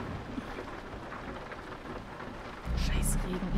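Rain falling in Euro Truck Simulator 2, a steady hiss that swells near the end into a loud, deep thunder rumble with crackling highs, no voices over it.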